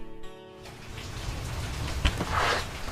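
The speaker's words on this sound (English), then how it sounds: "It's raining when I get there" Steady rain falls outside a small lake house in the countryside near Minneapolis, a soft continuous hiss of drops that swells slightly after a brief tonal sound at the start.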